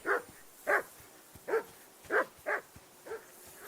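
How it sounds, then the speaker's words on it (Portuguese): A dog in the video game Kingdom Come Deliverance II barks six or seven times in a steady, evenly spaced series. The barks are faint and distant over quiet ambience. "that barking's driving me nuts. Can you get your dog to shut its beak?"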